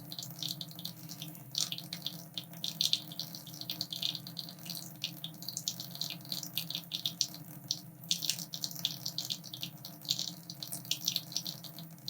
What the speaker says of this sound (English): It's a very noisy tap, isn't it?